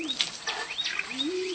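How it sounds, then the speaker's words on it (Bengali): Birds sing near lychee trees outdoors, with several quick, high chirps and whistles over a steady hiss of background noise. "অনেক সুন্দর পাখির শব্দ শোনা যাচ্ছে"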